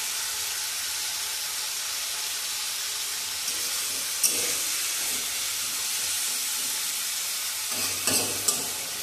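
Food seasoned with salt and turmeric fries in a pan with a steady, close, bright sizzling hiss, broken by a few faint clinks of a utensil; no one speaks.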